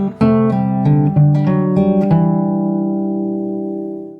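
The next section of a song on fingerstyle acoustic guitar: a quick run of plucked notes that settles into a long, ringing chord left to decay, close and alone.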